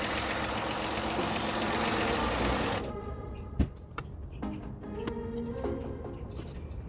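A 2012 Ford Escape engine idles with a steady, dense rumble for a few seconds, then cuts off, followed by a few scattered clicks and knocks.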